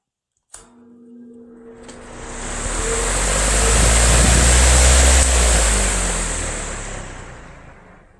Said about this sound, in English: Alright, here is high speed.